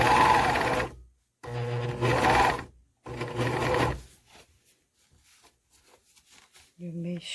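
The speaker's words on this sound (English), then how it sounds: "right now you're going to sew this together" A sewing machine stitches dress fabric together in three loud bursts, each about a second long with short pauses between, then the stitching stops and only faint handling noises and a brief soft sound remain.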